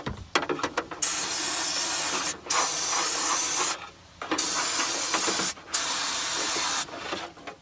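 Rust-proofing coating sprays from a wand onto a car seam and double panel in long steady hissing bursts, four of them separated by brief pauses, close and fairly loud with no talking.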